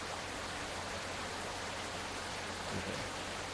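Steady rain in the detective game Rainswept, a dense, even hiss that stays loud and constant throughout, with no voices over it.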